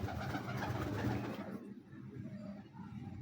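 African mem pigeons coo in a loft, low rolling coos heard close and fairly clear for the first second and a half before fading to softer, sparser murmurs.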